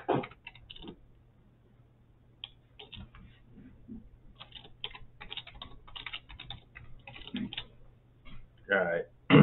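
Someone types a password on a computer keyboard while installing Postgres on UNRAID. Quick, uneven bursts of close key clicks come with short gaps between them, and a voice speaks briefly near the end.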